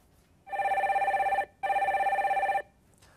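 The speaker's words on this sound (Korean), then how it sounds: "전화 연결 빨리 해볼게요." Telephone ringing while a call is being connected: two clear electronic ring bursts of about a second each with a short pause between, heard alone and moderately quiet.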